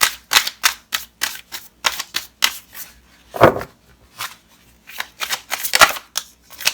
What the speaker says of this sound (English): I'm going to pull one more card for you,